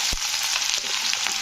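Onions tipped into hot oil already seasoned with cardamom, cloves, cinnamon and a bay leaf for a jackfruit curry, giving a soft thud and then a continuous bright, close sizzle.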